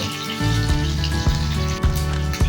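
Falui fish frying in hot oil, a steady close sizzle broken by regular louder pops and crackles.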